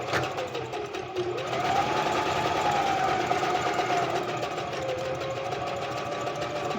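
A sewing machine runs steadily for several seconds with a dense, continuous mechanical whir at a fairly even loudness.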